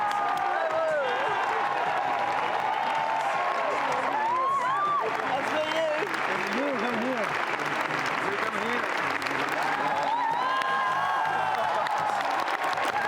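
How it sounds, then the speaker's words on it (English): A large crowd at the Cannes 2019 red carpet applauds and cheers continuously, with whoops rising above dense clapping and voices mixed throughout. "Listen to the crowd."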